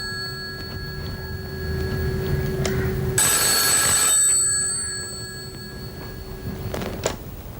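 A telephone rings in a home during a Pakistani drama scene, with a sharp burst of ringing in the middle and faint rings before and after over quiet room noise, no speech.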